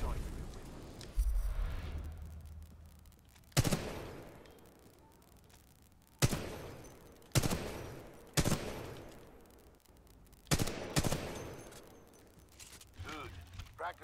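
Weapon fire on a Titanfall 2 training range: a series of loud, sharp gunshots spaced a second or two apart, each with a decaying echo tail, over a low game background.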